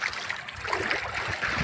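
Muddy floodwater flows down a swollen village river in rural Nepal, a steady close rushing and gurgling of water with no voices over it.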